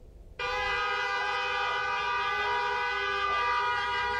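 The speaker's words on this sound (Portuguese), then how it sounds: "As buzinas são uma forma de protestar contra a insegurança." Car horns blare in a protest motorcade through the streets of São Pedro do Sul, Rio Grande do Sul: a loud, sustained, steady honking that starts abruptly after a brief quiet moment and holds until the end.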